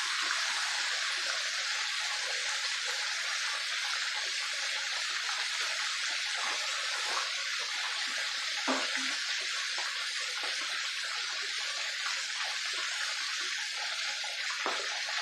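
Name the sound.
chicken frying in oil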